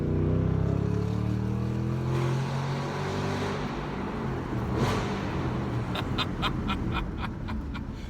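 A 2014 Shelby GT500 engine accelerating through a tunnel, a deep, loud booming roar echoing off the walls, swelling and holding, with brief crackling bursts near the end and no talk.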